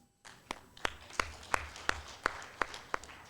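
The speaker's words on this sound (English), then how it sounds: "I would like to ask for a big round of applause for our" Audience at a women's economic and democracy forum clapping for panelists: a faint, sparse series of about nine evenly spaced claps with a steady rhythm and little crowd noise.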